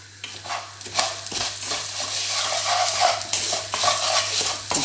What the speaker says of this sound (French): Puis mélangez le tout.